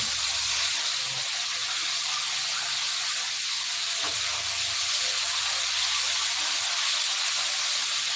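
Steak frying in a home pan over very low heat, giving a steady, even sizzle that runs unbroken throughout at close range with no talk.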